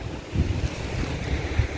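Steady gusts of wind buffet the microphone at a sand dune in Pathio, Chumphon, Thailand, with a continuous low rumble and soft surging swells, no voices present.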